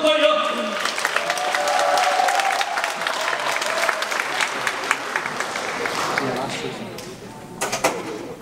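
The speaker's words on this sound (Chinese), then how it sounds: "掌声欢迎。" An audience applauding to welcome a choir onto the stage, a broad burst of clapping that swells and thins over several seconds, with a voice heard briefly at the start.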